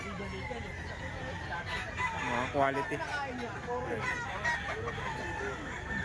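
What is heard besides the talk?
rooster crowing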